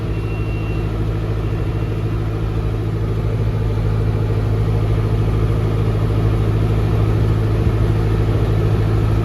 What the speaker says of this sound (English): we'll kick the PTO on again, rev it up a little bit, and then hit the wrap button